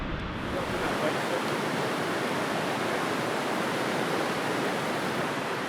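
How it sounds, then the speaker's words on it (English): Rushing water from a waterfall along the John Muir Trail, a steady, even roar of broad hiss that holds constant throughout at moderate level, with no voices. "The cool mist from the falls and the sound of rushing water created a tranquil atmosphere."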